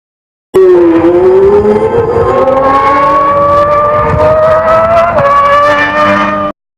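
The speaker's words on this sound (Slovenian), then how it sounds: "To je zvok zadnjega V12," Ferrari V12 Formula 1 engine, the last V12 raced in the series, screaming loud and alone with a rising high-pitched wail through the gears and a brief shift near the end.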